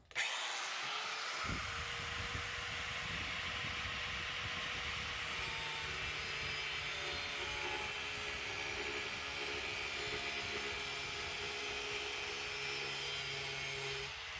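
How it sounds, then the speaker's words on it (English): An angle grinder disc cuts deeper into an existing cut in aluminum sheet for a homemade cleanup sluice. It gives a continuous, loud, steady whine with a rough grinding hiss throughout and no talk. "follow that with your grinder disc to go a little bit deeper"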